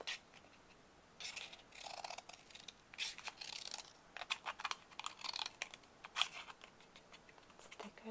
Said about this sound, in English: Another little cardboard box to cut up.